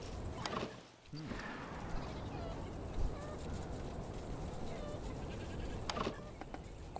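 Goats in the Mr. Prepper video game bleat in a few short, nasal calls, with one near the start and another near the end, over a steady low background while a person talks.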